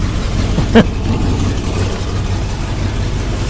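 A Chevrolet El Camino engine idles steadily at around 700 RPM while still cold, running on old gas; a low, even rumble holds throughout with one brief knock near the start.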